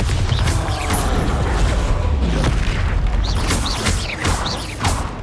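Bombarda blast spells going off during Hogwarts Legacy combat, a continuous loud barrage of booming explosions and crackling debris with several whooshing spell sounds layered on top.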